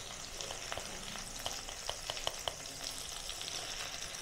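Kashmiri chili crackles in hot ghee and butter in a kadhai over a lowered gas flame, a steady faint sizzle punctuated by several small sharp pops around the middle.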